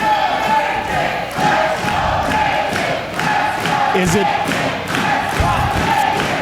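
Loud wrestling crowd at an Ascend Pro Wrestling show, cheering and chanting steadily for wrestler Nate, with a brief spoken question over the din.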